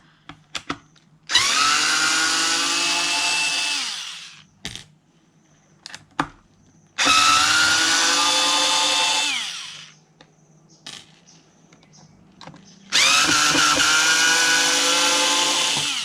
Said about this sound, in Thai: ไขบริเวณ ด้านหลังนะครับ เพื่อจะ เอาน็อตออกมานะครับ